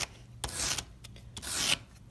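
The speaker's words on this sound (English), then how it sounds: "all I'm doing is just sanding with the curve" Small wooden balisong pieces sanded by hand, giving a series of short rasping strokes with changing direction, close and fairly quiet, with two longer scraping passes among quicker rubs.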